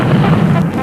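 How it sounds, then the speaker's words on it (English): Avalanche rumble used as a sound effect in a television advert: a loud, dense, low roar that holds steady for under a second, with no voices. "No, it's an avalanche."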